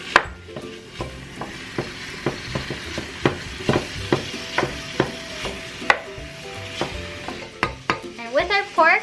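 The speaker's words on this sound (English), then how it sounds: "We can go ahead and add our pork. Go ahead and break that down." Pork dropped into hot oil in a pan and broken up with a utensil, a steady sizzle under repeated scraping and tapping strokes, close and clear with no voices.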